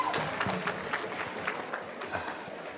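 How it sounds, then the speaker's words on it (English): Scattered, thin applause from teachers at a Jamaica Teachers' Association gathering for Dr. Smith, individual claps audible in loose irregular bursts rather than a full roar. "So Dr. Smith, give him a round of applause"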